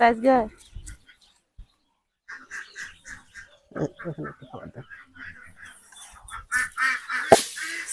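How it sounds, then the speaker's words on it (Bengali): Ducks on a duck farm quack and call intermittently, with a mix of near and farther birds, while people talk over much of the scene. "এখানে কতগুলো হাঁস রয়েছে এটি চারশো আছে"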